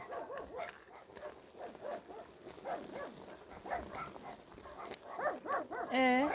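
Several puppies yip and bark in short bursts, with a higher whimpering cry near the end, against background room noise.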